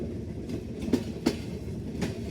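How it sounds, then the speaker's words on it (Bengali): The Chilahati Express passenger train runs along the rails, a low continuous rumble of wheels with a few sharp clacks over rail joints spaced irregularly, heard close and steady with no voices. "এটি ডাউন সিলাহাটি এক্সপ্রেস।"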